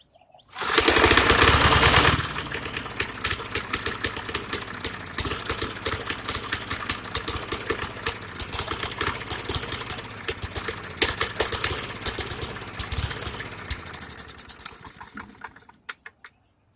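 A Briggs and Stratton 190cc small engine runs close by, starting with a loud burst and then settling into a rough, uneven chugging with irregular stumbles, as if starved of fuel, before cutting off.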